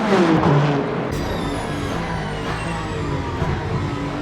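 Race cars in the Le Mans Ultimate sim racing game at the 8 Hours of Bahrain give a steady, dense engine roar, with pitch shifting as cars pass.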